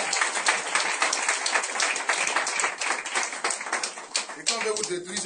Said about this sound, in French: On acclame le Seigneur pour les femmes.